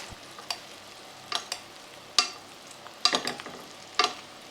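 Confit potatoes basted with hot oil in a pan, giving bursts of crackling sizzle each time oil is spooned over, about five sharp spurts over a low steady fry, close and moderately loud.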